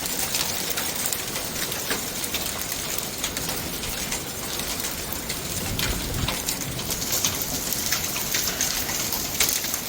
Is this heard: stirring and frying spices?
no